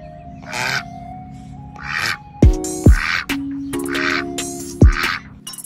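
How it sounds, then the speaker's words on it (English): A duck quacking in five or six loud nasal calls spaced about a second apart, close by, with sharp knocking thumps between some of them. "Duck."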